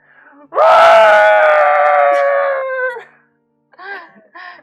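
A long, loud scream sound effect, set off by a front doorbell in a tabletop role-playing session, rises sharply and holds for about two seconds before breaking off, followed by a couple of short, quieter cries.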